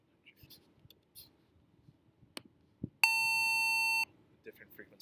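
A generated 900 Hz test tone sounds as a steady, loud electronic beep lasting about a second, abruptly starting and stopping amid quiet background murmur and faint clicks.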